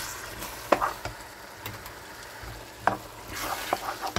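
A spoon stirs tomato paste into vegetables frying in a pan for Greek stuffed vegetables, with a steady loud sizzle and a few sharp scrapes and clicks against the pan, close up.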